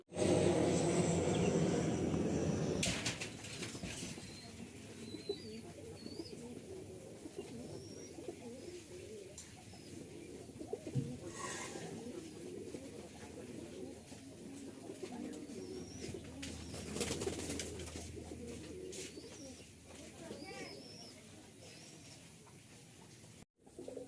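Pigeons coo softly and repeatedly, a low burbling chorus that carries on throughout against a faint background hum.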